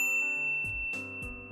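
A notification bell rings in a short sequence of bright metallic dings, several struck tones ringing over one another and sustaining, loud and close with no voice.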